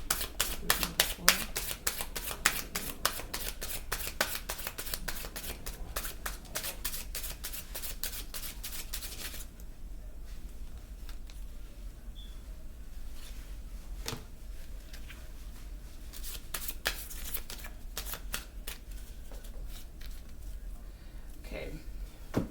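Tarot cards are shuffled close up in a rapid run of crisp riffling flicks for about nine seconds, followed by softer sliding and tapping of the deck.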